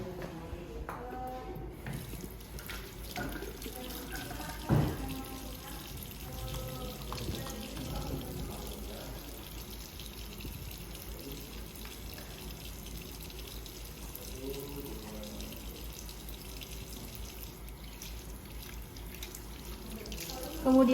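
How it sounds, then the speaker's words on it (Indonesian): Tap water runs steadily into a sink during a hand wash before a helminth lab examination, a continuous close wash sound with faint clinks and no talk. "alangkah baiknya kita cuci tangan terlebih dahulu dengan menggunakan standar dari 6 langkah standar dari WHO"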